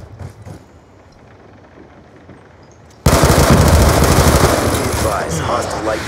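Black Ops 2 multiplayer gunfire: after a few quiet seconds of low game ambience, loud, dense automatic weapon fire bursts in suddenly and continues close and rapid until the end.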